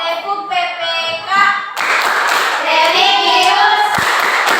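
Many hands clap together in a rhythmic pattern at a school gathering, loud and close, led by a chanting voice at first, then growing into dense group clapping.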